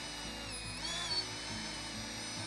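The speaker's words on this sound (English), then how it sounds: "use the power of the drill to put the line back on the spool" A cordless drill whirs steadily at close range while it winds mason's line onto a spool, a continuous hum with slight pitch shifts and no voices.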